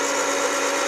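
A .308 Winchester brass rifle case is chamfered and deburred on a case prep tool. It gives a steady, close, mechanical whirring hum for about a second, with no talk.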